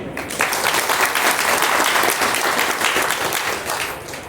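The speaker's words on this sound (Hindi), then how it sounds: "एक बार उनके लिए ताली बजा दीजिए।" An audience at a satsang gathering at a Kabir ashram claps loudly for the women volunteers who worked in the kitchen, with dense, sustained applause that eases toward the end.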